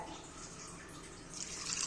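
Half a tumbler of water poured into a coconut-free chutney mixture that imitates coconut chutney, a soft steady liquid trickle that rises slightly toward the end, alone and close.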